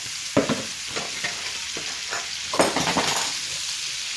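Potatoes fry in butter in a cast iron skillet with a soft continuous sizzle, broken by several scraping stirs and one louder clatter of a utensil against the pan, close and clear.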